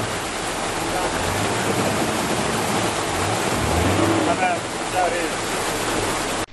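A river flows in a rural farming area, giving a loud, continuous broadband rush of water that stays steady throughout, with faint voices briefly audible beneath it.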